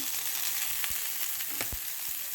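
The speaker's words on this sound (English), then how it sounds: "I'm going to throw some garlic in there so that the broccoli can get pan seared" Garlic frying in olive oil in a pan before broccoli goes in, a loud constant crackling sizzle with a few soft pops and light stirring taps, no one talking.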